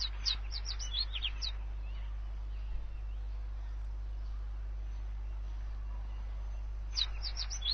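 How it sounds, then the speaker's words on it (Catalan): Faint, quick bird chirps in a forest come in two short bursts, at the start and near the end, over a steady low hum. "se sentien els cants dels ocells"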